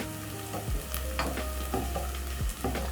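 Coriander sizzling in a cooking pot with softened onions, a continuous close crackle and hiss broken by a few brief clinks and stirs, with a low hum underneath and no talking.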